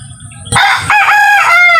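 A Chinese-breed rooster crows loudly and close, one long harsh call rising and trailing off after a quiet start.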